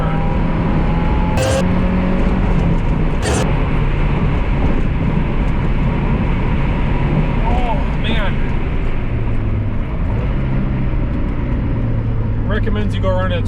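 Engine and road noise from a 1999 Mazda MX5 Miata steadily driving through a 25 mph turn, a constant loud drone with shifting engine tones and brief higher bursts, voices talking over it.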